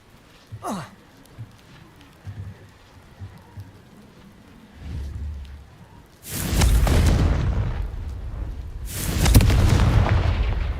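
Confringo fire spell blasts in Hogwarts Legacy, two loud, roaring explosive bursts with long rumbling tails, each lasting a couple of seconds, after quieter clicks and a short whooshing cast.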